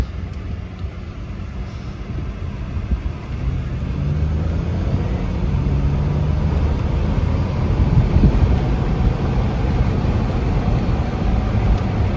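A 2007 Saturn Aura XR with the 3.6 engine pulls hard under acceleration, engine drone rising and steadying through manually selected gear changes, heard from inside the cabin amid steady road and wind rumble.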